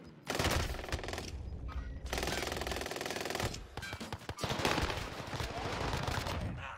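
Rapid bursts of video game gunfire from an online shooter, dense volleys crackling loud and close in several stretches with short gaps between, a voice speaking faintly underneath.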